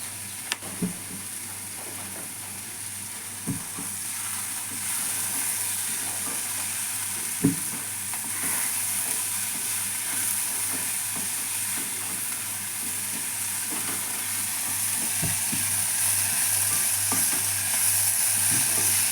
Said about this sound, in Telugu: ఇది కొంచెం ఫ్రై అయిపోయాక కొబ్బరి వేసేస్తాను